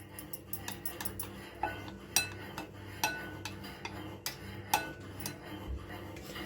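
A spoon clinks and taps against a bowl while stirring yeast mixture for homemade pizza dough, a run of light irregular clinks over a faint steady hum, close and quiet.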